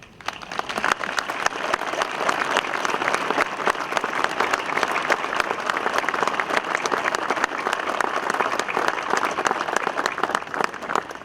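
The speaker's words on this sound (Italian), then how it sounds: "fatevi un applauso perché lo meritate" Sustained audience applause at a sectional Alpini rally in Castelfranco Veneto, Treviso: a dense, even crowd clapping that swells quickly and holds steady for over ten seconds with no talk.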